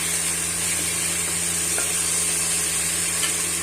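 Oil sizzles steadily in a pan during preparation of a sundakkai kuzhambu, a continuous close frying hiss with faint stirring touches and no talk.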